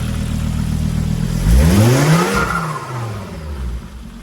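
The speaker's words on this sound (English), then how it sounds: "Turbo sounds." A turbocharged engine in a BMW-powered Beetle body swap with performance exhaust revs up with a rising whir and roar, then settles back down, heard close with no voices.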